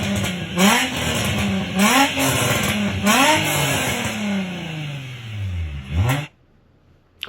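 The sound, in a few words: car engine revving, sounds like a Nissan VQ engine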